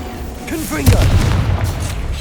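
Confringo fire spell explosion in the video game Hogwarts Legacy, a solid booming burst that lands after a short magical whine and rumbles on under ongoing combat ambience.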